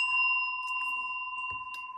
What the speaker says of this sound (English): I'm going to go ahead and ring the bell for additional good juju with my trusty mallet